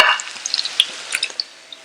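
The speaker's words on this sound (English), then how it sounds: "I'm adding these sliced onions in it. I'm going to fry it until it becomes nice golden brown." Sliced onions fry in hot oil, giving a soft, close sizzle with scattered small pops and crackles over a brief stretch.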